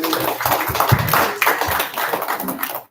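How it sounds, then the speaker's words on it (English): A small group of attendees at a neighborhood association meeting claps together, a loose, fairly close patter of individual hand claps lasting a few seconds before fading. "All right, round of applause, please."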